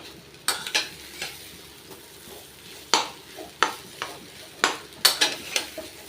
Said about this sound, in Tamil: சிம்மில் வச்சு கலருங்க.